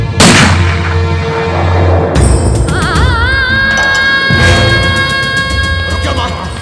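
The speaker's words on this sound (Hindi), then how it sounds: "वो पटाखे तैयार हैं क्या?" Firecrackers bursting in a Hindi film scene, a loud opening bang followed by a string of sharp crackling blasts and whistling, fizzing streaks, with background music underneath.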